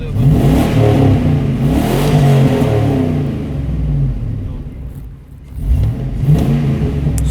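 Hummer H2 engine revving repeatedly in bursts, rising and falling loud and close, with a brief dip before another rev.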